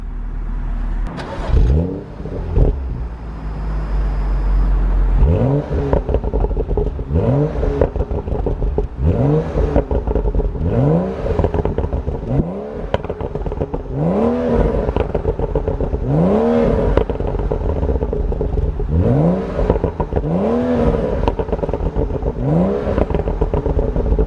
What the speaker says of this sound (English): Everyone loves a bit of revving, don't they?